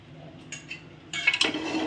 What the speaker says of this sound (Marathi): इथं ठेवलं मी मोठ्या कुकरमध्ये पाणी.